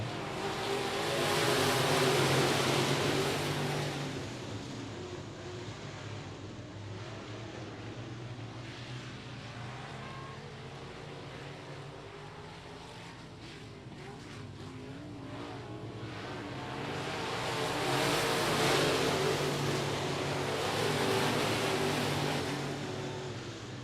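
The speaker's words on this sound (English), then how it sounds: "Revving up the engines one more time" Race cars rev and roar at the start at I-37 Speedway. Engine noise swells loudly as the cars pass, eases off into a steadier drone, then rises again as the pack comes back around.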